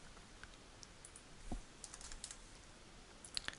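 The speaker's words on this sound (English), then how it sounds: "I should type in" Quiet, sparse keystrokes on a computer keyboard, a few isolated clicks followed by a short cluster of faster typing, close and soft with no voices.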